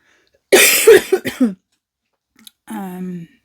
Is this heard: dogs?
no